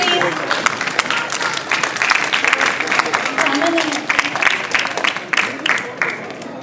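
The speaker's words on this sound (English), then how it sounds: "Can we have a round of applause, please?" A crowd applauds with dense, steady clapping that lasts several seconds, with voices chattering underneath.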